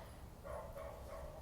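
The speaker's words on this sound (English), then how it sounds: "My neighbor's dog is barking incessantly." A dog barks repeatedly in the distance, a few muffled yaps in quick succession over steady outdoor background noise.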